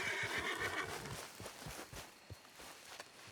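A horse in the video game Red Dead Redemption 2 whinnies, then hooves clip-clop steadily in a repeating rhythm, fairly close, with no voices.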